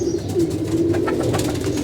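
Pet pigeons, some of them sick, coo steadily and close by in a low, continuous throaty murmur with no voices over it.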